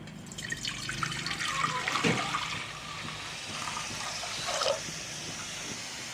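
Water is poured into a cooking pot for making rice, a rushing, splashing stream that runs close and steady, easing and rising again before fading.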